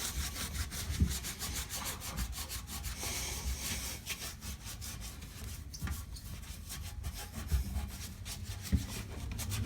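A mop-cloth with Ajax cleaning powder scrubs the area around a toilet tank: rhythmic, rasping back-and-forth rubbing strokes, close and continuous, with occasional knocks.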